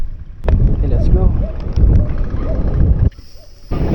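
Strong wind buffeting the microphone during a bike ride on a mountain at Capas, Tarlac, a loud rumbling gusty roar that drops off briefly near the end before returning, with someone speaking over it.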